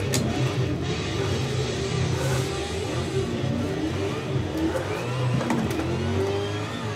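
A car engine in the Assetto Corsa drift game revs hard at full throttle, a loud, continuous raspy roar with rising and falling pitch as the car slides.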